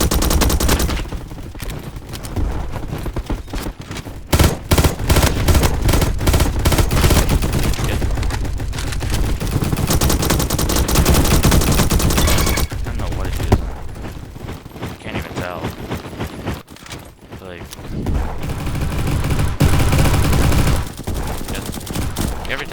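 Scorpion vz.61 submachine gun firing in the video game Bad Business, long rapid bursts of loud automatic fire with short gaps and mechanical clicks between them.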